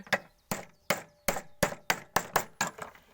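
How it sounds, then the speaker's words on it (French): Hammer striking sheet metal to bend a curved caravan roof covering, about nine sharp, loud close blows in a fairly regular rhythm, each with a brief ringing decay, without talking. "J'ai envie de prendre un marteau."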